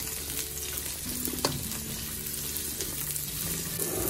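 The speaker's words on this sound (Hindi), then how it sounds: "मैं गाजर और ये देखें मशरूम्स डाल रही हूँ।" Carrots and mushrooms stir-frying in a hot pan, a dense steady sizzle with occasional stirring scrapes and a clink, close and unbroken by voices.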